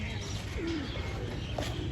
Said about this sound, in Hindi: ये कबूतर आ गए जी